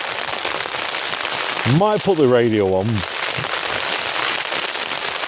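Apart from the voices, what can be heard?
heavy rain battering on a tent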